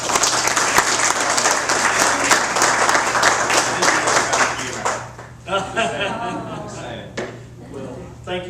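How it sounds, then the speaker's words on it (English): An audience at a Mount Holly city council meeting gives a dense round of clapping that fades after about five seconds, after which people talk over a few scattered claps. "Let's give him another round of applause."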